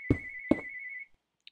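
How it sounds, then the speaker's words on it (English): A phone rings with two sharp electronic trills over a sustained tone, clean and close, then cuts off into near silence. "And the phone went off"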